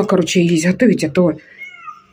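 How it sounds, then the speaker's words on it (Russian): A stray cat cries at a house, its plaintive meow mixed in with and trailing after someone talking close by. "А что это за кот это сюда пришел, так плачет?"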